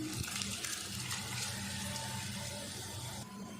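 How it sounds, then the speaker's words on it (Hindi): Rice poured into a pot of boiling water while making mixed vegetable pulao, a steady rushing, bubbling wash of water sound that runs close and fairly loud throughout before easing slightly at the end. "पानी में बॉयल आ गया। अब इसमें चावल डाल देते हैं।"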